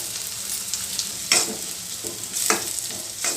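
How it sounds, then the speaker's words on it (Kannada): Garlic, onion and green chili frying in hot oil, a steady close sizzle broken by a few sharper crackles and stirring scrapes, with no talking. "ಎಣ್ಣೆಯಲ್ಲಿ ಚೆನ್ನಾಗಿ ಫ್ರೈ ಮಾಡ್ತಾಯಿದ್ರೆ ಬೆಳ್ಳುಳ್ಳಿ ಫ್ಲೇವರು ತುಂಬ ಸೂಪರಾಗಿ ತುಂಬ ಚೆನ್ನಾಗಿ ಬರುತ್ತೆ"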